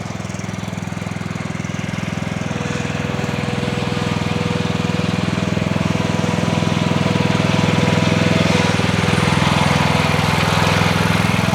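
A zero turn lawn mower runs steadily under a rider on a first ride, its engine droning loud and close with a constant rumble that grows slightly stronger across the stretch, with no voices.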